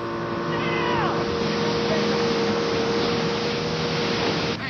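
A runaway motorboat with a child aboard circles on the water near a marina, its outboard engine droning loud and steady throughout, with a brief voice-like sound early on over the constant motor.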